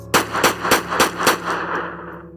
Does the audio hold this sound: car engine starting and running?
no